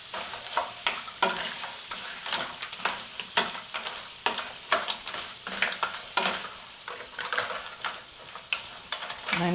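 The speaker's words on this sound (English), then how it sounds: "So into the butter and shallots. We're going to fry off those shells." Lobster shells fry in butter with shallots, giving a constant close sizzle punctuated by frequent sharp scrapes and clatters as the shells are stirred around the pan.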